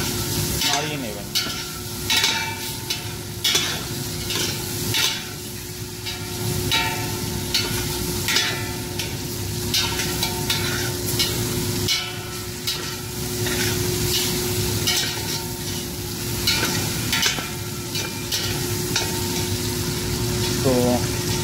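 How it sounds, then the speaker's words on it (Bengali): Chicken shammi kebab spices fry in oil while being stirred, a steady close sizzle broken by repeated scraping strokes of the spoon, with some talking over it. "এইভাবে নাড়িয়ে বেশ কিছুক্ষণ আপনারা তেলে মশলাতে 5 মিনিটের মতন নাড়িয়ে নেবেন।"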